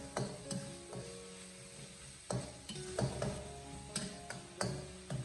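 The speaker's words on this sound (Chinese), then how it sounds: "先把肉末放进锅里面，先把它翻炒一下，开中火，先把肉末翻炒一下，将其炒散" Minced pork stir-fried in a wok over medium heat, with repeated sharp clinks and scrapes of a spatula against the wok in an irregular rhythm over a light sizzle, close and fairly quiet.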